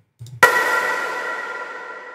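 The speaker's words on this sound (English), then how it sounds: "And this one is called Light Impact Hill." A light cinematic impact effect from a Lunar sound collection: a soft low rumble, then one sharp metallic hit that rings out into a long, shimmering, slowly fading tail, heard alone and fairly loud.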